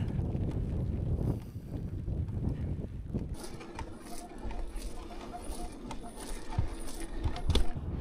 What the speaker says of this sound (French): Et là j'ai le vent et la pluie.